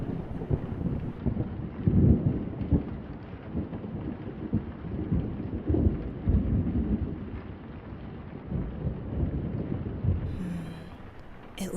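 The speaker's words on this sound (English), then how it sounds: "It looks like the storm is still moving towards us." A thunderstorm with deep rolling thunder rumbling in waves over steady rain and some wind buffeting the microphone, loud and continuous throughout.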